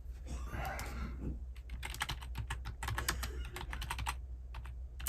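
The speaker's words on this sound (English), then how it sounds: "let me type in" Fingers type on a computer keyboard in quick, irregular bursts of light clicks, close by and quiet, with a soft breathy sound at the start.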